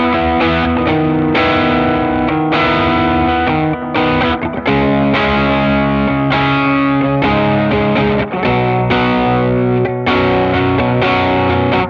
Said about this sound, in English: let's move on to our drive section, and so far it's here as a default, the Supreme Drive